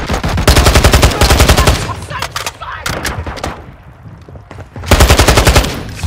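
Rapid automatic gunfire in a Call of Duty multiplayer match, loud dense bursts of shots at the start and end with a busier, quieter stretch of scattered shots in between.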